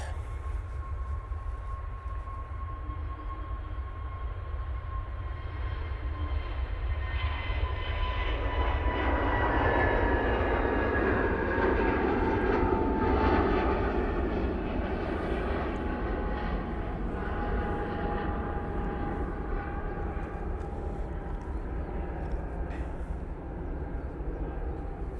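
An airliner departing Manchester Airport for London Heathrow in low visibility, its engine roar building steadily to a loud broad peak midway, then holding as a sustained rumble with no voices.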